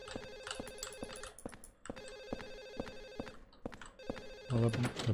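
In the Silent Hill 4 video game a telephone keeps ringing in repeated trilling bursts, steady and prominent, with a voice briefly speaking near the end.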